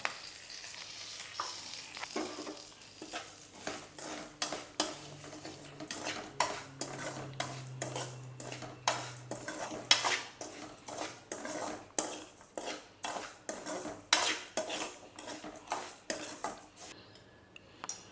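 A utensil scrapes and stirs semolina repeatedly in a dry pan, rhythmic scratchy strokes with a faint sizzle underneath, close and fairly quiet.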